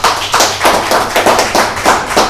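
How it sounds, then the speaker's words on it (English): Audience applause for a speaker being introduced at a business opportunity presentation, loud and close, with dense clapping swelling in rhythmic waves and no talk over it. "So I want you all to put your hands together for this very powerful and fired up man, Tuan Daniel Abdullah."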